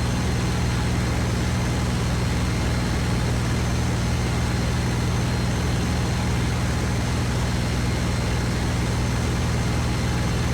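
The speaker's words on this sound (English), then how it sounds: "I can engage an engine boost, which then kicks my engine up really significantly" A WWII fighter aircraft engine roars with boost engaged in the IL-2 video game, a loud, steady low drone with a constant droning hum throughout, no pauses or changes.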